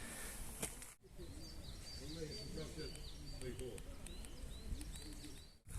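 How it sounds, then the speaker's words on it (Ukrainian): Spring birdsong at the Korostyshiv canyon, with many birds chirping and calling in quick, repeated phrases above a low rumble of wind and background noise, while a pigeon-like coo sounds nearby. "пташки співають."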